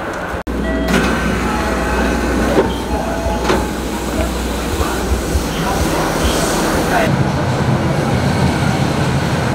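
A Tokyo rail line train ride from inside the car: a loud, steady rumble and hiss of the moving train with faint rhythmic clicks and occasional sharp knocks, running without a break.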